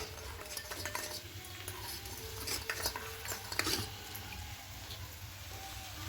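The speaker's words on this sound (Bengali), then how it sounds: "এবার এখানে অরেঞ্জ ফুড কালারটা দিয়ে দেবো দিয়ে খুব ভালো করে মিশিয়ে নেব" A spoon stirs potato masala in a pot as milk and orange food colour are mixed in for potato biryani, with close, continuous scraping and clinking over a low background hum.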